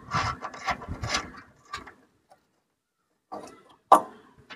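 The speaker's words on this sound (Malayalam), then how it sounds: "ഇനി മുകളിലത്തെ ബോൾട്ട്, അല്ല മുകളിലത്തെ നെട്ട് അഴിക്കാൻ പോണേ കേട്ടാ." A nut is worked loose on the suspension of an old-model Bajaj X Wide CNG auto rickshaw, giving a cluster of close wooden-sounding knocks and ratcheting rubs, a pause of silence, then a few scrapes and one sharp metallic clack.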